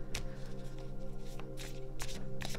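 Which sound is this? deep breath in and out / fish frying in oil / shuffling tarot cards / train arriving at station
shuffling tarot cards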